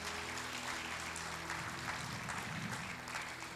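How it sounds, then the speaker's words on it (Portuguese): A church congregation applauds together in steady, dense clapping that holds at an even level throughout, with no clear voices above it. "Você pode aplaudir o Senhor por essa palavra?"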